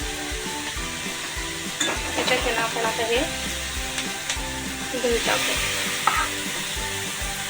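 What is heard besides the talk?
green chilies frying in a pan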